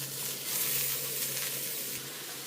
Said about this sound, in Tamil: புடலங்காயம் போட்டு வதக்குவோம்